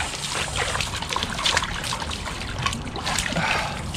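Water runs from a tap into a bath where a chihuahua is being washed, a continuous close splashing trickle with no talk.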